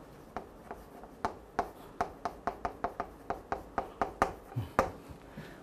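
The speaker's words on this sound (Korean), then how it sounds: "제목을 딱 한번 써볼게요." Writing a title on a board during a math lesson: a quick series of faint, sharp taps and strokes, close and unhurried, with no talking.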